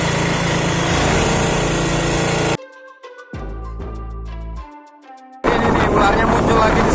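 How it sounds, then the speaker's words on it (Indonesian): A motorcycle engine runs with a loud, buzzing drone that cuts out abruptly and gives way to other sounds for a few seconds before returning just as loud. "Ini mesin sengaja kita nyalain biar keluar ya."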